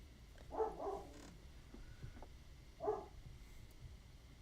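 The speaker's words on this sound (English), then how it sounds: "but she's barking at something over there." A dog barking somewhere off near a backyard pond, two short bursts of barks separated by a pause, faint and distant against a quiet background hum.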